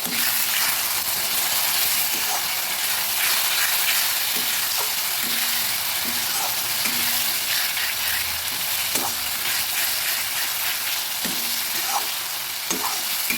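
Spice paste with tomato frying for chicken curry, a steady loud sizzle running throughout with repeated scraping clicks of stirring and a little splashing water, no talk.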